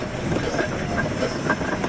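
An 1897 Fowler steam traction engine runs at a steam rally, giving a busy, rattling mechanical clatter with regular soft beats, close and steady throughout.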